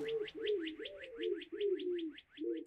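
A pigeon in a modded Minecraft game coos repeatedly in a soft, rolling rhythm, close and clear, with no voices.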